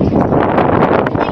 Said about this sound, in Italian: Il vento!